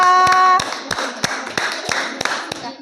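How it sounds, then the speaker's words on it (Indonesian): An audience in a classroom presentation claps for a presenting group, with sharp distinct hand claps at a steady rhythm, preceded by a brief sung or chanted tone at the start. "Oke, tepuk tangan buat kelompok 2."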